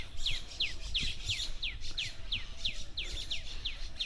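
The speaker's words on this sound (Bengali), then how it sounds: "দেখেন কি পরিমাণ পাখির কিচির মিচির" Birds chirping in a Bogura village in Bangladesh, a quick series of bright, repeated downward tweets at a steady rhythm over soft outdoor background noise, with no one talking.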